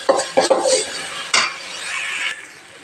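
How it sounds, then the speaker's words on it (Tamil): Ground paste sautéing in a pan until golden for a chicken gravy, with a few sharp spatula clinks against the pan early on, then a steady close sizzle and scraping stir. "அரைச்ச விழுது இதில் சேர்த்திட்டேன். நல்லா கோல்டன் ஃப்ரை ஆகிற வரைக்கும் நம்ம வதக்கணும்."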